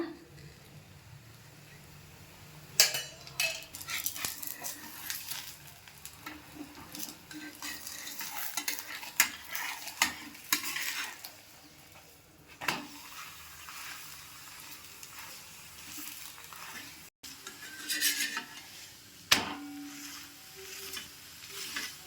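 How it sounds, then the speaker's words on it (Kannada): Paneer roll flatbread cooking in a little oil on a pan, with a steady low sizzle under occasional clinks and scrapes of a utensil against the pan. "ಚಪಾತಿ ಥರನೇ ಕೆಂಪಾಗಿ ಬೇಯಿಸ್ಕೊಳ್ಳೋಣ ಸ್ವಲ್ಪ ಮೇಲಿಂದ ಎಣ್ಣೆನ ಬಿಟ್ಕೊಳ್ಳೋಣ"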